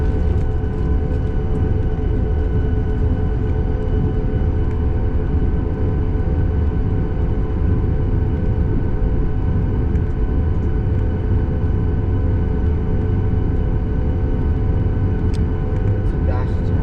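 American Airlines Boeing 737 MAX 8 taking off from Chicago O'Hare, heard from inside the cabin as a loud, steady engine roar with broadband rumble that holds throughout.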